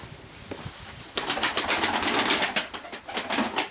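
Pigeons cooing and shuffling nearby with a burst of wing flapping, a busy flurry of soft fluttering and low coos with no voices.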